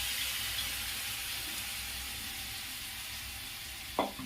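Boiled potato and pumpkin hit hot oil in a frying pan with a steady, close hissing sizzle. A short clatter near the end sounds like a spoon striking the pan.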